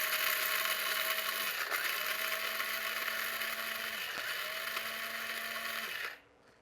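Electric coffee grinder running steadily as it grinds beans coarse for French press coffee, a loud continuous motor whir with pitch dips every couple of seconds, cutting off near the end.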